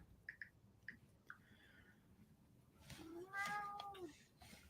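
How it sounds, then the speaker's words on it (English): A pet cat named Rocket gives several short, faint meows early on, followed by a longer, louder drawn-out complaining yowl, all over quiet room noise. "I hear a cat."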